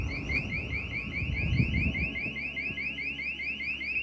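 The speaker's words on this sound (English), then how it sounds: "Another alarm." A car alarm at an abandoned mansion's car collection sounds at moderate distance: a rapid, repeating warbling electronic tone cycling steadily, with nearby footsteps and rustling underneath at first.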